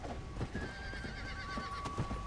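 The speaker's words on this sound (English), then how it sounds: "But it's a fucking skeleton horse." An undead skeleton horse from the game Undead Nightmare whinnies over a steady layer of game background noise, with a couple of hoof clops and no talk.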